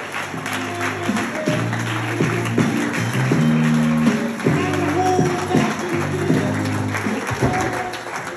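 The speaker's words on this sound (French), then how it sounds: "Et les habits reviennent maintenant sous les applaudissements du public." Audience applause at a partners' evening event as clothes are brought back on stage, clapping heard under loud background music with a steady beat and melody throughout.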